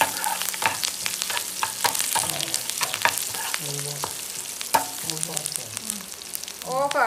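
Mustard seeds frying in hot oil for tempering a dried-fish tamarind curry, with a dense crackle, sharp popping bursts and stirring scrapes close by throughout and no talking.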